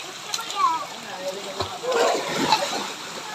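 A waterfall splashes and rushes steadily in Nueva Ecija while voices talk over it.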